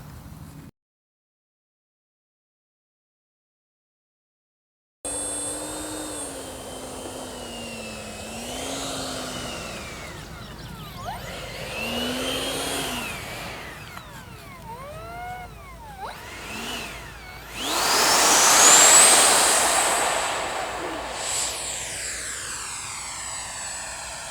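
An FMS 64mm F-16 Fighting Falcon EDF model jet spools up for takeoff on grass, its ducted fan whining and rising in pitch through several surges before a loud peak, after a brief silent gap at the start.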